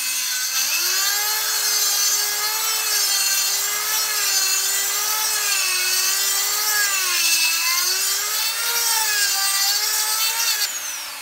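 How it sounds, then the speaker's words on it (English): A power grinder whines steadily while cutting away part of a Singer sewing machine, a loud, sustained tone that wavers slightly in pitch as the load changes for about ten seconds, with no talking. "It's going to be really noisy, you might want to step back a little bit, and we're just going to grind that out"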